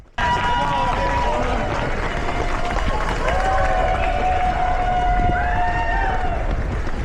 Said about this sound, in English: Loving that crowd support